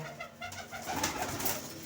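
Close pigeons coo in soft, throaty, rolling calls that overlap and swell slightly, with no talking.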